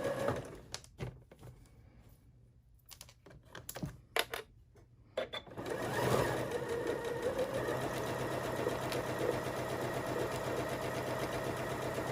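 After a few seconds of handling clicks and rustles, a sewing machine starts stitching a half-inch seam on a lingerie wash bag and runs steadily for the rest of the stretch at moderate volume.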